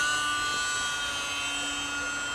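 A UMX Gee Bee R-2 radio-controlled model airplane flies on its maiden flight, its electric motor giving a loud, steady high whine that holds unbroken for the whole moment, with no talk over it.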